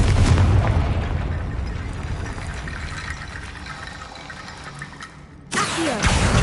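Confringo fire-blast spell in Hogwarts Legacy: a loud, rumbling explosive burst that fades into a long, washing roar, followed by a sharp second impact near the end.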